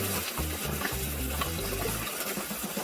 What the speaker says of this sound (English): I gently pour my chicken broth over this.